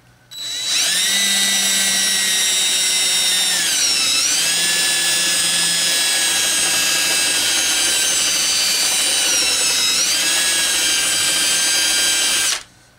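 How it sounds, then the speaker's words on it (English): A power drill fitted with a dull bit, working on an AM-FM tabletop radio receiver, whines loudly and steadily for about twelve seconds, its pitch sagging twice as the bit bogs down under load before recovering. "That drill bit is duller than my hind leg."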